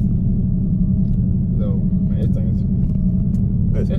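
A Dodge Demon's V8 idles with a loud, steady, throbbing low rumble that holds unbroken throughout, while voices talk briefly over it.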